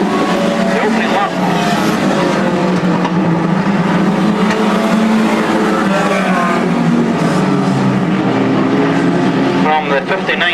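Stock cars racing at Crimond in 2002, engines roaring steadily as a pack throughout, with a commentator talking over the continuous loud drone.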